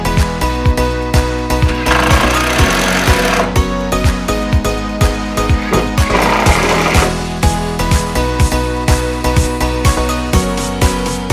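Power driver sinking the provided screws to join a sink unit to a barbecue unit in an outdoor kitchen cabinet setup, a loud close run of rapid rattling bursts and short pulses, no talking.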